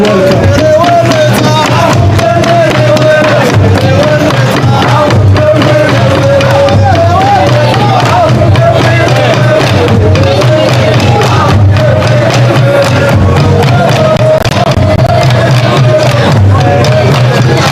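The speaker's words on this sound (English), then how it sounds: "A big round of applause for their wonderful welcome" A large outdoor crowd at the opening ceremony of a festival applauds and cheers continuously, a dense roar of clapping and voices with loudspeaker talk over it.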